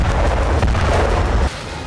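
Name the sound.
explosion of a 1500 kg Russian bomb on the battlefield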